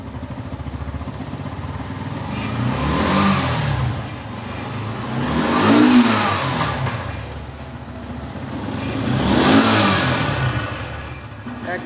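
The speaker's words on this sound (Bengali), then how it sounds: "বাইকটা চালু থাকলেও বোঝা যায় না যে চালু রয়েছে দেখেন" A Yamaha FZS V1 motorcycle engine runs close by, rising and falling through three smooth revs over a steady idle, with no talk over it.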